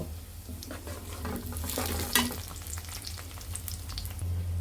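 Onions fry in a pan until brown for chicken biryani, with a continuous bubbling sizzle and occasional stirring scrapes, plus one brief louder clatter in the middle. No voices are present.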